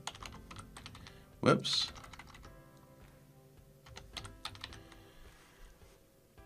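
Computer keyboard typing comes as quick, faint, close clicks in irregular bursts, with a short exclamation from a voice partway through.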